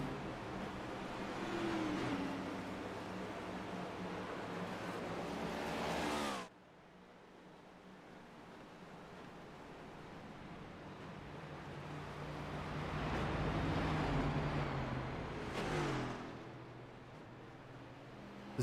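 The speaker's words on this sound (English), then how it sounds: "Several cars down the pit lane" Race cars in a racing video game rolling down the pit lane, a steady engine drone and whir that dips sharply mid-way, then swells again as cars pass, moderately loud with no talking.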